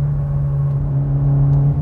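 A tuned 520 WHP Mitsubishi Lancer Evo 9 running on E85 drones loudly from inside the car, a steady low engine hum that climbs slightly in pitch as it pulls, with no voices.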